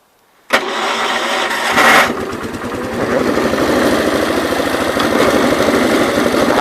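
Case Ingersoll 222 garden tractor engine cranking, then firing and settling into a close, steady rhythmic running chug.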